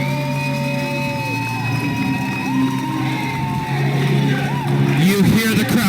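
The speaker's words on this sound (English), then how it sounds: "You hear the crowd." A crowd of fans cheers and roars at a racing event at the LECOM Center in Elmira, a loud, sustained wash of noise under commentators' talk, with engine-like tones and whistles rising near the end.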